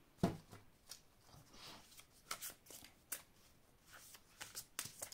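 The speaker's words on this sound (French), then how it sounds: "Alors, je vais vous prendre deux cartes ici." Tarot cards are drawn from the deck and handled with crisp, quiet shuffling and sliding rustles in scattered bursts, close by, with a sharper flick near the start.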